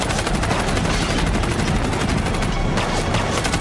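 Rapid dense gunfire from a movie action scene, loud sustained bursts like automatic weapons, with no talk.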